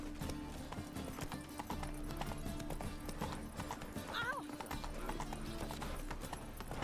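Horse hooves clip-clop steadily in The Witcher video game, a continuous trotting rhythm under game music and ambient sound, with a brief whinny partway through and someone talking over it.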